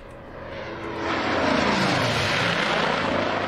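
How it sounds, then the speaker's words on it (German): A propeller airplane engine drones in the strategy game Order of Battle: Blitzkrieg, swelling louder after about a second and then holding a steady, close, roaring hum with no talking. "Wir können ja schon mal das Flugzeug hinschicken zur Verstärkung."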